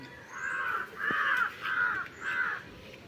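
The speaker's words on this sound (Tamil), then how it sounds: "மத்தியான டைம் தானே காக்கா கத்துக்கு" Crows caw at midday outdoors, four loud, evenly spaced harsh calls close by, with fainter answering calls in the distance.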